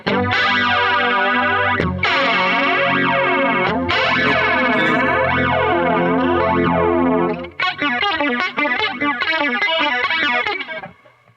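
Distorted electric guitar played through a flanger pedal, chords swept by a strong whooshing comb-like modulation, loud and alone, ending with quicker choppy strums.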